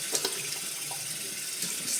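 Tap water runs steadily into a bathroom sink as a face is rinsed after cleansing, a continuous broadband splash with small shifts as hands move through the stream, alone with no voice.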